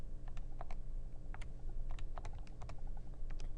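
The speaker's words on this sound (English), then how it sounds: "typing in the function" Keys pressed on a graphing calculator while entering a function, a scattered series of light, quick clicks in irregular bursts over a low steady room hum.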